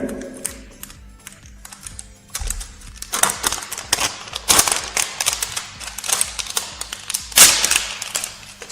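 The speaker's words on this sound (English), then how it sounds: "So now I just remove this paper." Paper and plastic packaging are peeled out of a Nokia 3 phone box, making close, loud crinkling and rustling with sharp snaps and tearing bursts.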